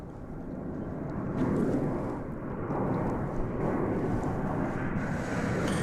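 An American Airlines Boeing 737-800 arrives at Dallas/Fort Worth airport, a steady low jet rumble that swells slightly and holds, heard from a distance with wind in the background.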